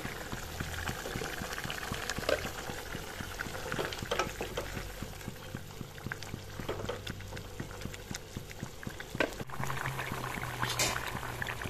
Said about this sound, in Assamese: উতলিবলৈ ধৰিছে